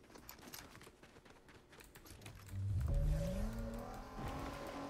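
Car driving in the video game Fortnite (Chapter 5 Season 4, zero build): a vehicle engine rises from a low rumble into a louder revving drone partway through, with background game sounds and no talking.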